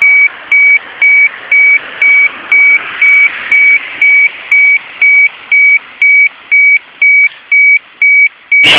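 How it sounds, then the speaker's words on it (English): A town emergency alarm in Oyama, Japan repeats as a loud series of about sixteen evenly spaced electronic beeps, each about half a second long, sounding alone with faint background hiss between the tones. "The alarm is repeating in my town, Oyama, Japan."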